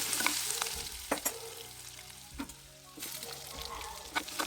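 Ground green chilli and curry leaf paste fries in a pan for vermicelli upma, a steady close sizzle with a few sharp clinks and scrapes of a spoon stirring through it, no voices.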